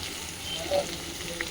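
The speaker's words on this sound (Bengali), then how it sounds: "এই যে কাঁকরোলগুলো ভাজা হচ্ছে" Spiny gourd (kakrol) slices frying in oil give a soft, steady sizzle with a few faint pops, heard alone and fairly quietly.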